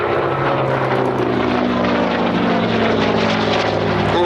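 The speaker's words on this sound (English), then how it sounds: "And as you see Paul rolling the aeroplane" Hawker Fury FB.II piston-engined fighter rolling at Sywell Airshow 2024, its propeller engine a loud, steady, close drone with harmonic tones throughout, no voices.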